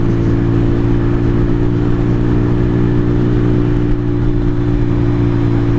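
A 2023 Venom SS3 KP mini 150 dirt bike idles steadily up close, its small single-cylinder engine droning loud and constant through a restricted exhaust, with no voices over it.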